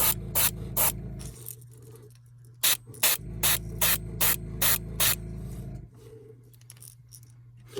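An airbrush sprays paint onto a golden shad fishing lure in short, repeated hissing bursts over a low steady compressor hum, close and fairly loud, with pauses between sprays.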